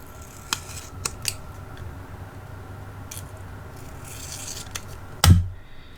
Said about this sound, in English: Actually, I'm going to cut off this white.